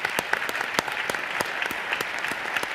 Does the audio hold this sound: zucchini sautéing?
no